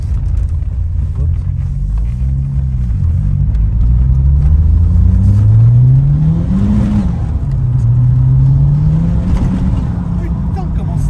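A Renault 21 engine drones loud and close inside the moving car, its pitch rising through the gears as it accelerates, dipping at shifts and then climbing again, with occasional voices over it.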